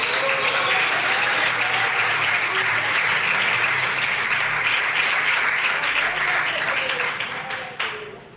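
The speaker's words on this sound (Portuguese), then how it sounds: "Quem quer dar uma salva de palmas?" A church congregation applauds loudly and steadily for several seconds before the clapping thins out and fades at the end.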